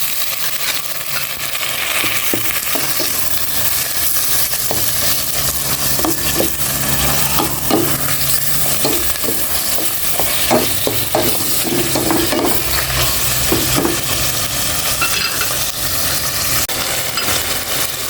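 Mixed vegetables sauté in a pot of hot cooking oil with a steady, loud, close sizzle, and a utensil scrapes and clinks against the pot now and then as the food is stirred.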